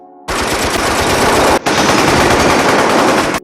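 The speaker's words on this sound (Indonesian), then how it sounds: "Tembakan dimulai dan Sonny yang tidak dapat membalas tersandu" Loud, close machine gun fire in long sustained bursts, rapid shots running together, with a brief pause midway before the firing resumes.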